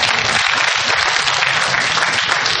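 Applause from the audience at a 2010 Michigan Republican congressional primary debate, a brief, dense wash of many hands clapping at once, loud and even throughout.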